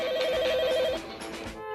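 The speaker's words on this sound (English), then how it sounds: "Too distraught to even answer the phone." A telephone rings in a SpongeBob SquarePants cartoon, with a rapid warbling electronic trill repeating for about a second before it cuts off, close and clear, followed by a softer background tone.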